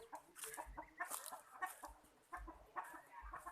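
Several chickens cluck and chatter nearby in a quiet yard, with soft scattered calls overlapping.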